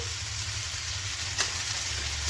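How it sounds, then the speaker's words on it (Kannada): Tomatoes and onions sizzle softly in a pan for a chicken gravy, a continuous close hiss with a low hum beneath and a couple of faint clinks. "ಟೊಮ್ಯಾಟೊ ಈರುಳ್ಳಿ ಚೆನ್ನಾಗಿ ಮೆತ್ತಗಾಗೋವರೆಗೂ ಫ್ರೈ ಮಾಡ್ಕೋಬೇಕು"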